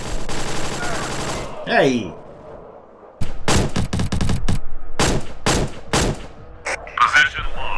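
Several sharp gunshots from a weapon in the VR multiplayer battle game War Dust, fired in separate bursts after a swooping whistle-like sweep, with a brief shout and some voice near the end.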